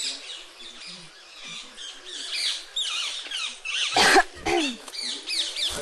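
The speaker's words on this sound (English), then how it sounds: "Filled with all of Vrindadevi's parrots." Parrots squawk and chatter in harsh, repeated bursts at a lakeside spot, some calls close and loud, others softer in the background, with a burst of flapping or rustling in the middle.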